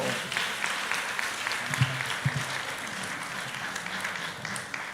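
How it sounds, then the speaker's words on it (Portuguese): A church congregation at a festival service gives a long burst of applause, a dense steady wash of many hands clapping at moderate distance that carries on unbroken for the whole stretch, with no speech on top. "Um forte aplauso."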